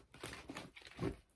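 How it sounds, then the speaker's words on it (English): Quiet papery riffling and crinkling, a few short bursts of cards being shuffled close by, with no talking. "I'm shuffling these cards."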